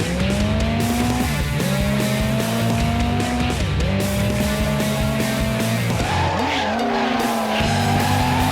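Tires squeal in long sustained skids during drifting in the D1 Grand Prix PS2 racing game, with engine drone underneath and pitch sliding between drift transitions, loud and continuous throughout.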